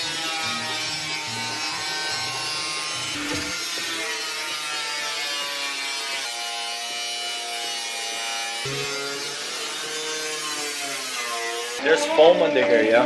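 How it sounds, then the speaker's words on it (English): A Nissan 240SX fender is cut and radiused about an inch further for clearance, with a steady, whining power-tool cut running close and loud throughout and a brief voice near the end. "we're gonna go ahead and radius the fender about 1 inch more just to have a little bit more clearance"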